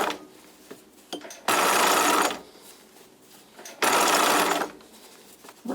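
A sewing machine stitches a knit headband in two loud, steady bursts of rapid whirring, each about a second long, separated by quiet pauses.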